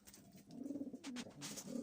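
Pigeons coo softly inside a loft, a few low throaty calls rolling in close succession, fairly faint and close by with no voices.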